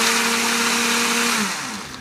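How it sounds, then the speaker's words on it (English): A blender whirs loudly as it blends a smoothie, its motor tone steady and then dropping in pitch near the end as the blades slow. "Now we'll be right back and we're going to blend."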